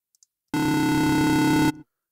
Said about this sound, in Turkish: Gördüğünüz gibi bütün notaları tıkır tıkır tek tek çalıyor.